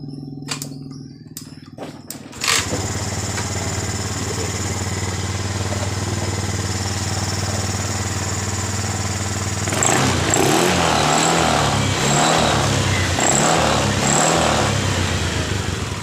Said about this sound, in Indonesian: Kita matikan, saya hidupkan kembali.